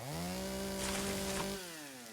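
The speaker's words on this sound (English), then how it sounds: "this is why you want the chainsaw and the rock drill" A chainsaw in the Once Human video game cuts wood with a steady, loud engine drone that dips in pitch and eases off near the end, with no talking.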